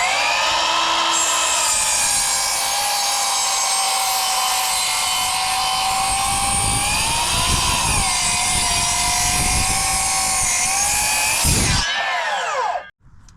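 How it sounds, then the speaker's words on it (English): A 10-inch miter saw cuts through 4x4 timber with a loud, sustained whining buzz as the blade bites into the wood, then spins down and stops near the end. "this miter saw doesn't cut all the way through 4x4. It's only a 10-inch saw"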